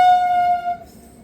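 An Indian Railways locomotive sounds a single loud, clear horn blast as the train arrives, holding steady for under a second before cutting off into quiet.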